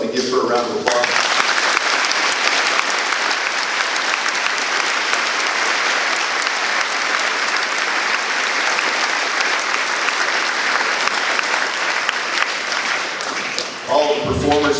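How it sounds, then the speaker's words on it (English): A school Veterans Day program audience applauds in a loud, sustained, even roar of clapping, with a voice faintly audible at the very start and end. "please help me give her a round of applause"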